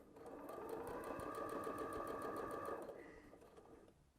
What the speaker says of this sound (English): I always like to top stitch around the entire scrunchie